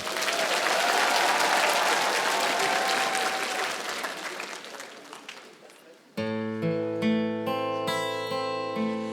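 A theatre audience at a rock opera claps steadily and loudly for about six seconds, the applause thinning out before bright, sustained stage music abruptly takes over.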